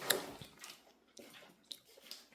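Someone chewing sweet pineapple, soft wet squishy bites and crunches repeating irregularly at close range, fairly quiet with gaps between chews and no talking.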